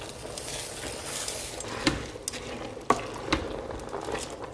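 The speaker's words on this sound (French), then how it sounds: "rajouter mes épinards petit à petit et je vais mélanger" Spinach being stirred while cooking, with soft scraping and shuffling, a few sharper clinks of the utensil against the pan, and faint sizzling underneath, close and fairly quiet.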